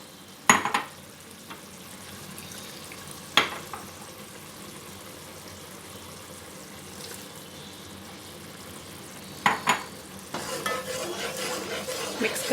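Spiced tomato and green chilli masala with yogurt added, stirred in a pan, with a low background sizzle punctuated by a few sharp spoon scrapes and knocks, then a rising burst of frying and stirring at the end.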